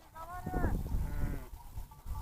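Sheep bleating nearby in a pasture during lambing, a few wavering calls in close succession with some background rustle.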